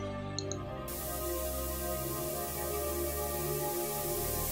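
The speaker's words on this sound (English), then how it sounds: "The air fills with the pulse of electronic static" Dense, buzzing electronic static with a steady pulsing hum, loud and continuous throughout.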